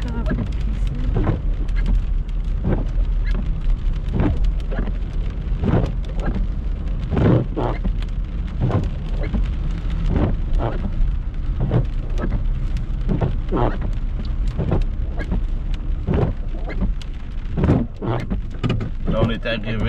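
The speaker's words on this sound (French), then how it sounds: "Puis, c'est de la pluie" Steady rain falls by the water at Verchères during a November sleet and snow spell, a loud constant hiss with sharp drop impacts throughout.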